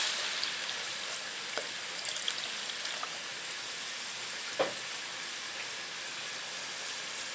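Water goes into a pot of rice sautéing with salt for yellow rice with peas, giving a steady, fairly quiet sizzle with a soft bubbling hiss throughout and no talk.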